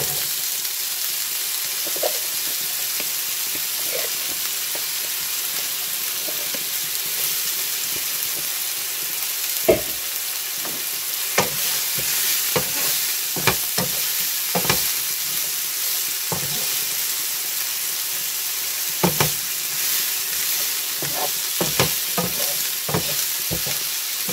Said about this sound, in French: vous faites revenir les échalotes et les oignons